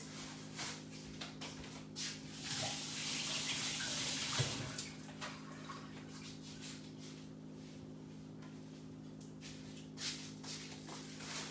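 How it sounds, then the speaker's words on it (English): Tap water runs steadily into a sink while someone washes their hands in a home kitchen, a soft continuous splash with faint shuffling and no talk. "I'm just going to wash my hands."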